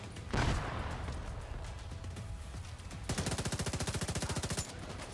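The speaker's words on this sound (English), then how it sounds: "that machine gun he has is pretty nice" Machine gun fire in The Division 2 on Xbox: loud, dense battle noise with an early blast, then a rapid, evenly spaced burst of automatic shots lasting about a second and a half.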